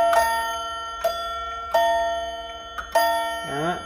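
A pendulum clock's chime strikes several clear, ringing metallic notes, each decaying slowly, at an uneven pace, followed by a brief wavering tone near the end.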